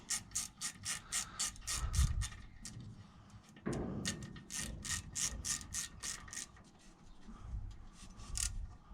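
A ratchet wrench tightens a Torx bolt during rear brake caliper work on a Seat León, producing rapid repeated clicking bursts in quick runs, close and fairly loud, with a few heavier clunks between them.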